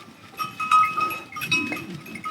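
A large herd of goats in the Corsican countryside bleats and calls in overlapping voices, with faint bell clinks mixed through the herd noise and no talking.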